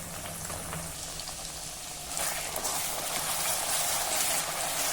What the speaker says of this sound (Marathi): त्यामध्ये आता हे आपण केलेलं कांदा, खोबरं, खसखस, आलं, लसूणचं वाटण घालूया.